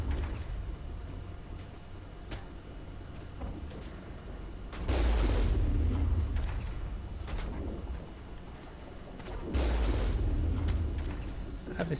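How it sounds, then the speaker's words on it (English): Gunfire in a Mass Effect firefight, two heavy bursts of booming shots with scattered sharper cracks between them, moderately loud against a low rumbling backdrop. "Obviously they're shooting at me."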